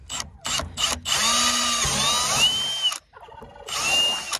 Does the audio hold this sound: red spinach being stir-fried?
no